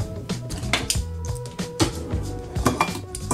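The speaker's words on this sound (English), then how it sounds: "so let me just get this can opener" A handheld can opener working on a can in a home kitchen gives close, loud metallic clicks, clanks and scrapes in an uneven, repeating rhythm.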